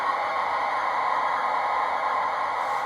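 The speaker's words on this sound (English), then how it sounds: "sound file, which is what would have been put on a cassette tape" A steady, harsh electronic data tone hisses and buzzes continuously, loud and unchanging, like a modem or tape-loading signal: Korg Poly 800 synthesizer preset data meant for cassette tape.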